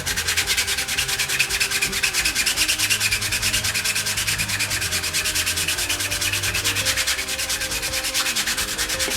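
Rapid, rhythmic scratching of sandpaper rubbing back and forth over 3D printed plastic, close and continuous, with no talking.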